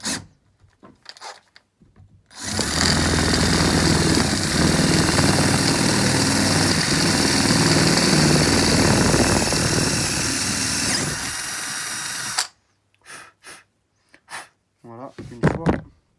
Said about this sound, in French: Donc on va percer les ballasts en 6.